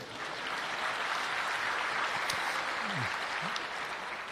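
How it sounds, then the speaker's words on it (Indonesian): Applause from an audience at a religious talk, a broad steady patter of clapping heard from a distance, with faint tonal voices or cheers briefly rising underneath. "Kita berikan tepuk tangan dulu ya."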